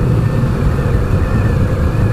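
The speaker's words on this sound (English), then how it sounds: "its characteristic thump-thump sound as you ride it" A Yamaha SCR950's 950cc air-cooled V-twin runs with a dense, loud, low throbbing rumble that holds steady throughout, heard up close and without any talking.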